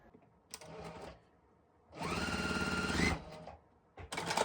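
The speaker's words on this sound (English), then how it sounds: "I'll go ahead and sew these on" A sewing machine stitching quilt strip sets runs in short bursts: a brief run, a pause, then a longer steady whirring stretch of about a second and a half, and another burst starting at the end; quiet and close.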